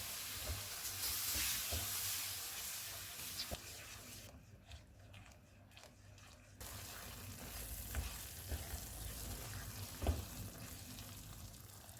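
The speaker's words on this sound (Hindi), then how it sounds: "इसको घी अलग होने तक भूनेंगे।" A mixture of milk, sugar and green cardamom powder roasts in ghee in a pan, giving a soft steady sizzle and frying hiss with occasional stirring scrapes, close and fairly quiet.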